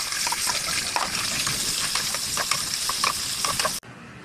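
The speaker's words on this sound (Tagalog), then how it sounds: "Ngayon, magigisa na tayo." Hotdogs sauté in a frying pan with a loud, continuous sizzle, broken by light clinks and scrapes of stirring, until the sound cuts off abruptly near the end.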